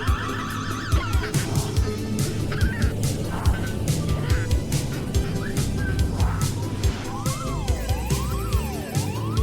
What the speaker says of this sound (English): when suddenly, ducks!